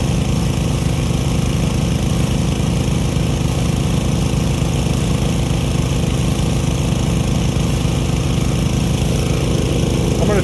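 A two-pump setup feeding a Buckner 3-inch giant irrigator drones loudly and continuously, a steady engine-like hum with a fast, rhythmic pulsing throughout.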